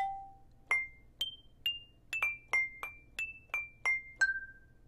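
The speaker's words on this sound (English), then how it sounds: "for Terra Cotta, it's actually a terracotta flower pot," A terracotta flower pot struck about a dozen times, each hit a short, bright, ringing ping with a quick decay. The strikes fall in an uneven rhythm, land at slightly different pitches and stand clear against a near-silent background.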